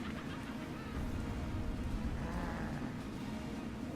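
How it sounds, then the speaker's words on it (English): A steady, even whir of machine noise hums faintly in the background, like a computer fan running without a break. "sorry if you hear a computer fan in the background"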